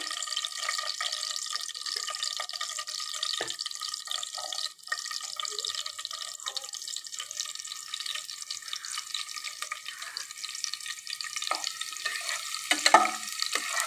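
Chopped garlic fries in a pan for spicy Bengali beef bhuna, making a continuous, crackling sizzle with occasional stirring scrapes and a brief louder clatter near the end, close and uninterrupted by speech.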